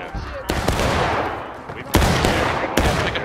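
Musket gunfire in the video game War of Rights, with several sharp shots cracking over a continuous rumble of distant battle noise, loud and close, while a voice talks over it.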